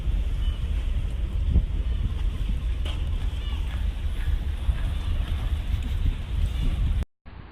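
Steady wind buffets the microphone on a choppy boat ride across the water in Istanbul, a continuous loud low rumble and rush that cuts off abruptly near the end.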